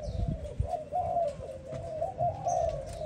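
Several Malaysian spotted doves coo in repeated soft, rolling phrases, fairly close, over a low rumbling background with faint chirps from other birds.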